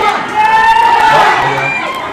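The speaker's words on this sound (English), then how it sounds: "the crowd getting so excited" Excited crowd cheering at a 15k cross-country ski race, a loud continuous wash of shouts and whoops that swells and holds, with talk mixed in.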